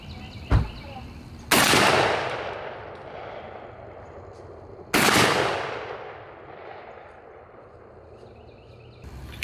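Two loud shotgun blasts from a Browning Maxus II semi-automatic with a full choke, each sharp report followed by a long fading echo outdoors, plus a faint earlier click.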